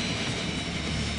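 The jet engine of a jet-powered drag racing pickup truck, a former aircraft power plant, roars loudly and steadily in a dense, continuous rush of thrust.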